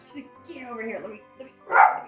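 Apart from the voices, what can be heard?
dog barking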